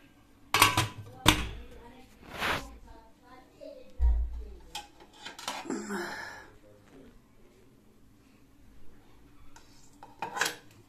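Metal pots, steel plates and utensils clink and clatter in a home kitchen as a meal of tingmo steamed buns and mutton is served, with sharp intermittent knocks and scrapes close by and some voices in the background.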